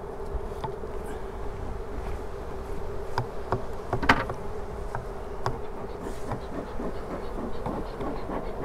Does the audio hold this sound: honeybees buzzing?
yes